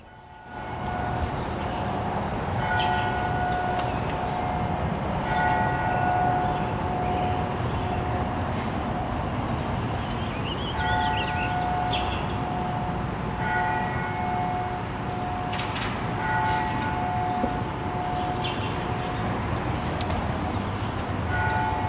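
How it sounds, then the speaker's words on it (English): A church's Angelus bell rings repeatedly in steady, spaced tolls above a constant rumble of a nearby train, the strikes clear and moderately loud throughout. "let's all take a second and listen to the Angelus bell"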